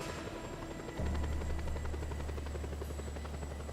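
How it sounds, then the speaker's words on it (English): A helicopter in the video game Just Cause 2 flies close by, its rapid rotor chop swelling louder after about a second and holding a steady low drone with whining overtones. "Oh, there's a helicopter. Hey, Mr. Helicopter."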